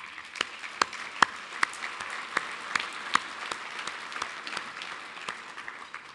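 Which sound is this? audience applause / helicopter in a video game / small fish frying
audience applause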